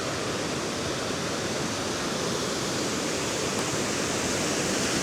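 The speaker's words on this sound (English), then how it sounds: "There's another part of the falls up at the top above the water." Waterfall at Invermoriston, a steady, loud broadband rush of falling water that fills the whole clip without pause, close to the listener, with no voices.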